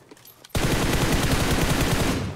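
Rapid automatic gunfire from a first-person shooter video game erupts after a half-second of near silence, a dense, loud burst of shots that runs unbroken to the end.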